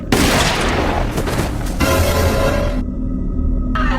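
Gunfire in a zombie movie scene comes as loud, booming, dense blasts over a continuous, heavy movie soundtrack, with the rumble cutting off abruptly near the end.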